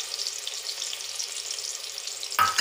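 Ginger garlic paste frying in hot oil in a pan for mint rice, making a continuous bright sizzle with fine crackles close up, and a brief clatter of a stir near the end, no talk.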